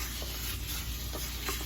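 Soft, steady scraping of a spoon stirring rice as it toasts in a pan for Mexican rice, a few faint strokes under a constant background hiss.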